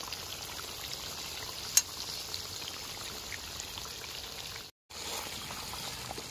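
Coriander, cumin, cinnamon, cardamom and cloves fry in oil in a kadai for village-style karahi chicken, a soft, steady sizzle with one sharp click early on and a brief dropout later.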